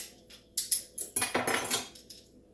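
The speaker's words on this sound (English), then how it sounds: "Then I just take a knife, scrape it off there." A kitchen knife scrapes the soft flesh out of a halved zucchini for low-carb pizza boats, making several close, quick rasping strokes in short uneven bursts.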